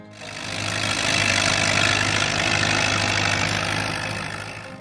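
Allis-Chalmers WD classic farm tractor engine running at a steady idle, a continuous low rumble that swells slightly and then eases, close and unbroken.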